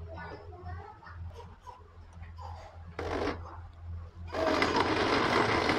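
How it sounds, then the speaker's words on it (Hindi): A kitchen mixer grinder blending garlic, chilli, onion and aloe vera into paste: a brief whir first, then a loud, steady grinding roar taking over the second half, with a voice earlier. "तो ये जी हमारा ग्राइंड होना शुरू हो गया।"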